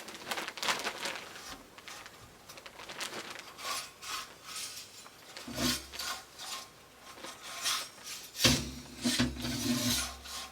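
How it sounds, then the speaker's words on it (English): A chimney brush on a rod scrapes up and down inside a flue, giving repeated rough rasping strokes in an irregular rhythm, fairly close and moderately quiet, with no talk. "give it a few good passes by pushing the brush up into your flue and then pulling it back down, so that you get a scraping, sweeping up motion"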